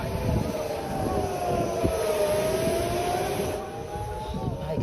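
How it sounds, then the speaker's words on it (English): Air raid sirens wailing during an alert on an airport tarmac in Tel Aviv, a rising and falling tone heard at a distance, mixed with rumbling background noise and voices. "He was forced to evacuate a plane as air raid sirens were blaring."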